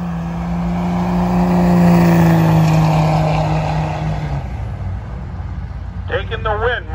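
Drag racing at Grove Creek Raceway, an old Hertz 455 and a Dodge Ram truck in the Street Eliminator class, with a loud engine roar that swells and fades as a vehicle passes, under an announcer's commentary.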